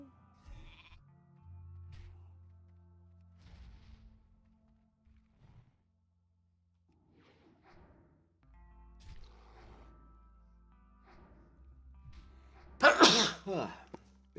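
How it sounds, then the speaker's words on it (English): A big sneeze from a character in World of Warcraft, The Burning Crusade pre-patch, bursts out loud and short near the end, after quiet stretches of faint game sounds and low murmurs. "Big sneeze."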